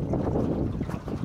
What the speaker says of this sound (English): I'm just idling along at a very, just a walking pace really.